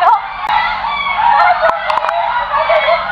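Fowl at a national zoo, a close, loud, continuous jumble of raspy clucking and honking calls, with a few sharp clicks mixed in.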